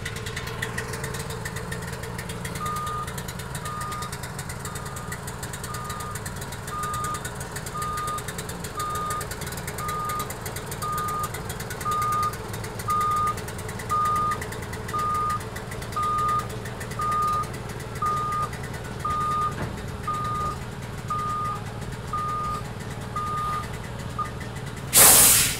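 A truck reverses toward a removable gooseneck trailer, its backup alarm beeping in a steady, evenly spaced series over the continuous low idle of the engine, ending with a brief louder knock.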